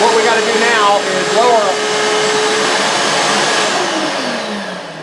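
Shop vacuum hose pulling debris out of a plunge router cut: a loud, close suction roar with brief warbling pitch sweeps as the hose moves, then a slow wind-down as the motor tone falls.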